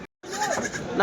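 A goat bleats up close at a livestock market in Kadiri, a loud wavering call that starts right after a brief silence and carries through to the end.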